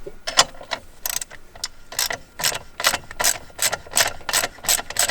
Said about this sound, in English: You're just going to need a deep socket to get it off.